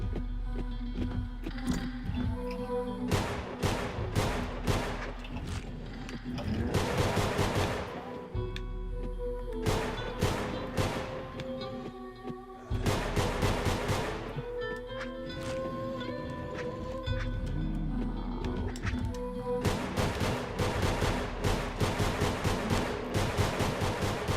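Repeated bursts of gunfire from a video game demo, sharp shots clustered in rapid groups throughout, loud and close over a steady low game rumble.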